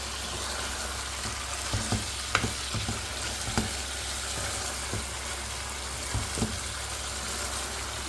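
Chicken curry sizzles steadily in a pan while it is stirred with coconut bits, coriander and curry leaves. A spoon scrapes and taps the pan now and then over a constant close frying hiss.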